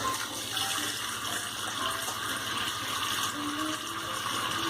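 Water runs steadily from a tap while someone rinses off after a head shave, a continuous close hiss and splash with no talking.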